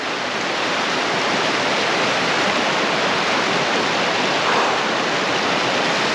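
A river rushes at a river crossing on Dartmoor, a loud, continuous, close roar of flowing water with no pauses and no voices.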